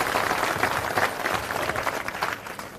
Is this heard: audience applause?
yes